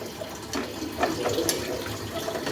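Water is poured into curdled milk in a cooking pot for a paneer curry, a steady close splashing trickle running for a couple of seconds with no talk.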